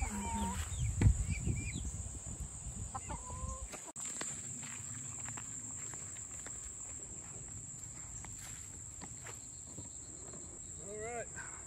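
Chickens on a farm make a few brief clucks, some early and some near the end. They sit over a constant insect drone, with shuffling footsteps at the start and no clear talking.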